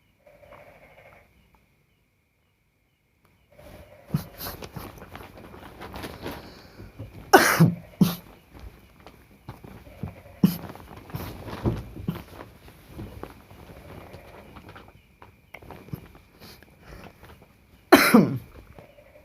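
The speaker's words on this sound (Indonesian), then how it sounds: "saya lagi agak batuk ini." Several bursts of coughing and throat clearing, some sharp and loud, spread across a stretch of quieter background noise.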